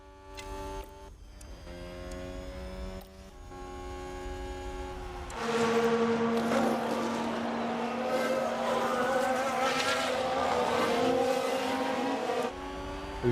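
Formula 1 race cars scream past in the F1 Manager 22 video game, Ferraris and a Red Bull battling for position. A thin engine whine rises into a loud, sustained roar held for several seconds.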